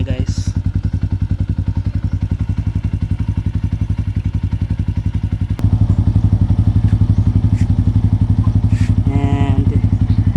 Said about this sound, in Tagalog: ayan yung idle sound niya guys